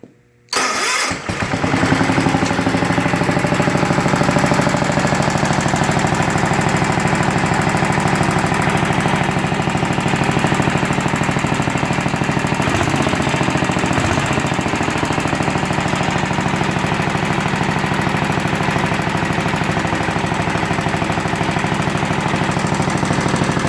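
A Tecumseh HH100 small engine fitted with Chevrolet and Ford ignition parts starts after a brief crank and runs continuously, a loud, steady, rapid chattering throb that stays close with no voices.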